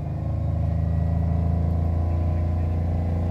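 The engine of a 2011 Chrysler Town & Country minivan hums close by at a steady, low idle, rising only slightly as gas is given, with no talk.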